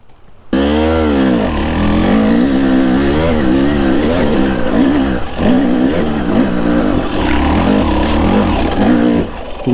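A 2020 300 TEI enduro motorcycle engine bursts into loud, close revving as the bike rides off, its pitch rising and falling continuously with no talk.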